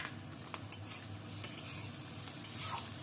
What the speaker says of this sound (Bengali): এটাকে আমি হালকাভাবে ভেজে নেব।